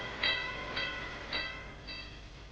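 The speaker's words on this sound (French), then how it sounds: "je pensais que prendre ce tramway unique et ancien serait une excellente façon de découvrir la ville" An old vintage tram in Qingdao gives off repeated bright metallic tones, four evenly spaced pings or bell-like screeches over a steady rolling rumble.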